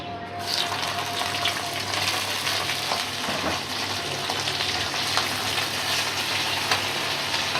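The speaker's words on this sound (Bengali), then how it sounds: "এখন আমি সুটকি টালবো" Dried fish roasts in a pan with green chilies, garlic and onion, making a steady, close crackling sizzle with light stirring scrapes throughout.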